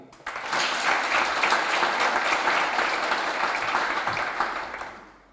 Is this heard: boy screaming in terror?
no